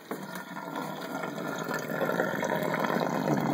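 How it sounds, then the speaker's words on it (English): Water drains from a 75-gallon aquarium through a Python drainer with a steady, gurgling rush and splashing that grows slightly louder, heard close with no talk. "The water's coming out down there."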